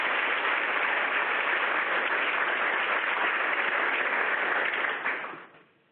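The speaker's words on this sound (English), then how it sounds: "let's give Steve a round of applause" Conference audience at a nonpoint source training workshop applauding a speaker, a dense, even clapping that holds steady for about five seconds before tapering off at the end.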